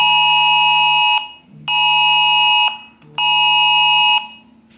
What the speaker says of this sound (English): This is a test emergency alert, a new UK government service that will warn you if there is a life-threatening emergency nearby.